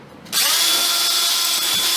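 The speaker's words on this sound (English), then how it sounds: "So I've got a 1/8 inch drill bit set up here" Power drill fitted with a 1/8 inch bit punching holes through a plastic worm farm bucket, a loud steady high-pitched whine starting abruptly after a short pause and running without break, close up.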